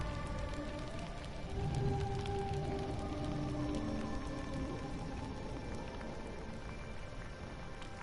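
Steady rain patters over the crew in the video game Burly Men At Sea, a dense, even hiss with scattered drops and faint tonal game sounds beneath, moderately quiet and continuous.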